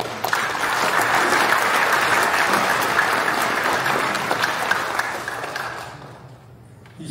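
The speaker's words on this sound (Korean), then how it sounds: "감사의 박수를 드립니다." A congregation at a joint military academy Christian worship service claps in thanks, loud sustained applause filling the room, tapering off in the final second.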